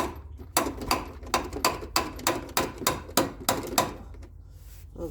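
A hammer taps an upper control arm into place on a car suspension, about a dozen sharp metallic knocks in an uneven, fairly quick rhythm, close and clear with no talking.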